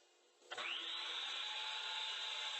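A power saw bursts on after a brief quiet lead-in and settles into a loud, steady high whine as it cuts a wooden frame segment for a standing 4x6 photo frame.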